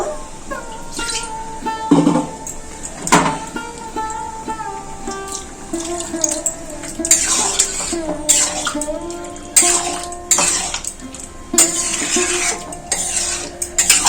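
Boiled spinach goes into frying spinach masala in a pan, followed by a little water: scraping, stirring and clinking of a utensil against the pan, with splashes and sizzling, loud and close, no talking.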